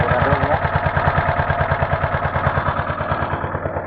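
A boat engine with a faulty carburetor runs steadily after restarting, a loud close mechanical chugging with a fast, even pulse throughout, no voices over it.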